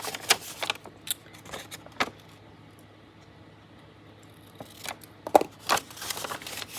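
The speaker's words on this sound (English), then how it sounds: "So we'll just cut those off." Scissors snip off extra pieces in a few sharp, close cuts, first in a cluster early on, then after a quiet pause another quick group of snips and rustling.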